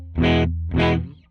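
Two strummed chords on a Jazzmaster electric guitar played through a clean tone with no reverb, each ringing briefly and close, the second fading out cleanly with nothing else present.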